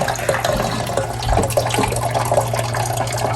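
Water streams steadily into the drip tray of an ECM Synchronika espresso machine with direct plumbing, a continuous close splashing flow with a low hum beneath, no talking.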